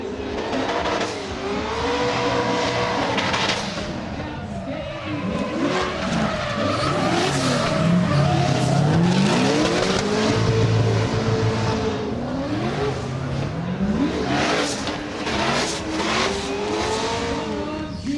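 Drift cars at a D1WA Pro round, including a supercharged S15 and a twin-turbo LS car, skid through a turn with loud, sustained tire squeal and wailing, revving engines that rise and fall across the whole stretch.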